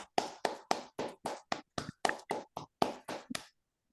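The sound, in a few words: applause for the speaker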